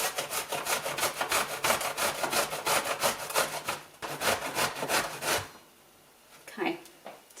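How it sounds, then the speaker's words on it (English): Courgette rubbed down a box grater in quick rhythmic rasping strokes, close and fairly loud, stopping near the end before a faint clatter. "And then we're just going to use our box grater"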